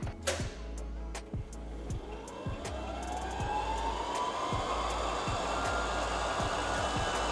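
A tug's engine is held flat out with the wheels spinning, a steady close mechanical whine and roar with rhythmic low thumps, the pitch climbing gradually as the wheel speed rises.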